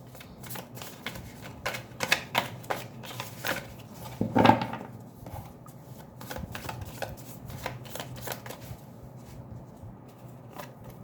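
Tarot cards being shuffled by hand, quick papery flicks and riffles in dense bursts with a louder rustle near the middle, close and alone.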